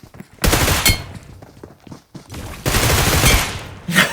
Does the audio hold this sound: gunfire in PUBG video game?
yes